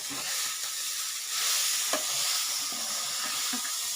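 Aval upma of flattened rice sizzles loudly in a pan while being stirred, with a continuous hiss and occasional soft scraping knocks, close by and with no talk.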